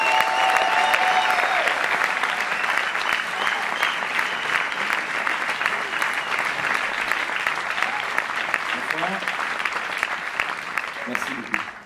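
Concert audience gives a warm, loud round of applause for a performer at a Music & You jazz concert, dense continuous clapping from a large crowd filling the whole stretch with a few voices mixed in.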